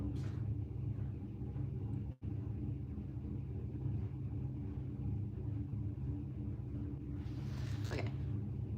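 A parked car idles with its engine running, a steady low rumble that holds across the whole stretch with one brief dropout and a faint rustle near the end.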